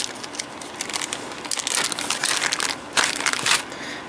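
Tape is pulled off the packaging of a Soft Flex Company Spider Queen mystery design kit, giving a close, continuous crackling and crinkling that grows louder toward the end.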